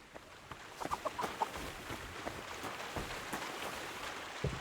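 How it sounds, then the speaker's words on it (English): A rooster clucking in Kingdom Come: Deliverance II, a string of quiet, quick clucks and scratchy rustles over faint ambient background, no talking. "Oh, the rooster's really running."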